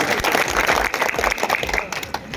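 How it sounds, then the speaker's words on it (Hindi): Loud, dense applause from a large crowd at a political rally in India, sustained throughout with many hands clapping at once. "जोरदार तालियों से स्वागत करिए"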